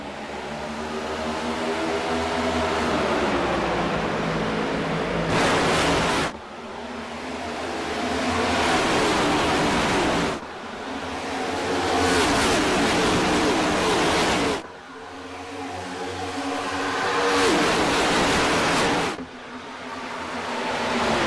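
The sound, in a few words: NASCAR stock cars racing at Charlotte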